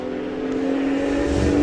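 Two drag racing cars launch side by side from the start line at Bug Jam 2021, their engines roaring loud and close and building steadily as they pull away.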